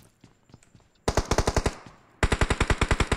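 Automatic gunfire in a mobile battle royale game: two loud rapid bursts of evenly spaced shots, the first about a second long and the second running to the end, preceded by quieter scattered clicks.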